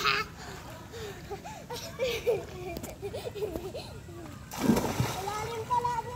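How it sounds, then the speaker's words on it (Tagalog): Kids shout and chatter while jumping into water, a big splash hitting near the end, with lighter sloshing around it. "Talon na Marky."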